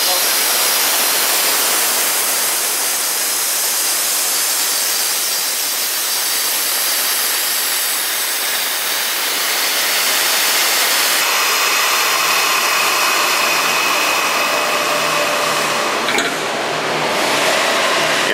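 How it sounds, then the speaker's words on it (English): Compressed air rushes out of a pressurized AmphiBlast blasting vessel with the compressor shut down, a loud, steady broadband hiss lasting the whole stretch, shifting tone partway through, with no talk over it. "But since I shut the compressor down, I can now relieve the pressure out of this vessel."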